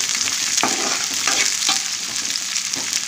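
Chopped onions, green chillies and salt sizzle and fry in a pan, a close, steady crackling hiss broken by several stirring scrapes, with no voices.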